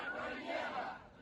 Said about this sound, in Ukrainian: Люди пройшлися середмістям, вигукуючи «фашисти» та «Генічеськ – це Україна»